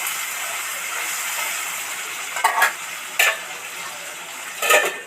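Chopped tomato and onion fry under a lid in a pan, a soft continuous hiss and sizzle with three short, louder bursts of crackle near the end.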